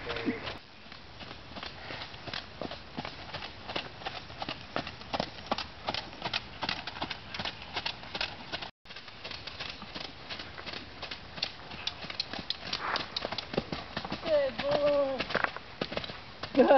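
Steady clip-clop of hooves at a walking pace, with birds cooing and a voice speaking now and then in the background.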